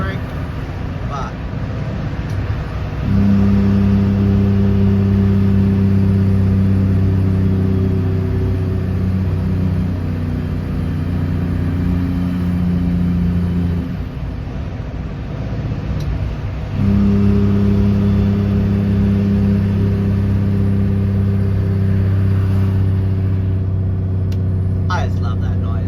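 A truck descending toward Adelaide in a manual gearbox runs its exhaust engine brake, a loud, steady, throaty drone that holds for about ten seconds, dips briefly, then returns just as strong.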